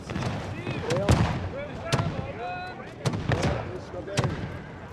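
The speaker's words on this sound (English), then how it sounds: "And they're shooting the cavalry regiment." Musket volleys crackle through a winter multiplayer battle in Pike & Shot Total War, several sharp overlapping shots spread over a few seconds against a busy backdrop of game ambience, with voices talking over it.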